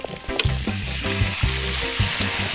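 Mung beans sautéing in a pan, a loud, close, steady sizzle with quick spoon scrapes and stirring knocks over a low hum.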